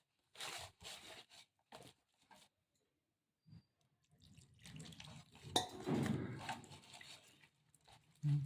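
Bajji batter is stirred with water in a bowl, starting as a few short wet slaps and scrapes, then a quiet pause, then a longer stretch of thick squelching and sloshing, close and fairly soft.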